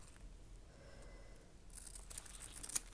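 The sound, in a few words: scissors cutting off a piece of tea bag paper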